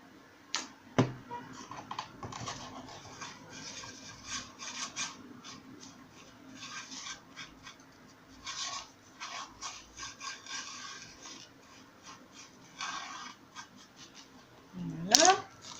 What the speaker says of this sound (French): je badigeonne l'intérieur